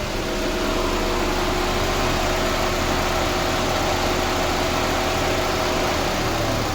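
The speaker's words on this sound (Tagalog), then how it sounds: "Pero pag dun sa makina, mas ramdam yung ano niya, pupugak-pugak." A Nissan Almera engine idles with a steady, close, continuous rumble and a constant low drone, running rough with a misfiring, sputtering character; no voices are heard.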